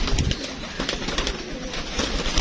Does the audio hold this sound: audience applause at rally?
no